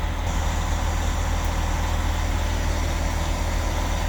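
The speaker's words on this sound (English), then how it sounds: "let's go ahead and turn the engine off" Engine idling steadily while charging a deep-cycle 8D battery bank, a constant loud, even low drone with no breaks or changes.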